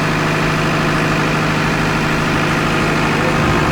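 A freshly overhauled Perkins diesel generator engine runs steadily close by, a loud, even low rumble with constant vibration and no voices, its pitch dipping slightly near the end.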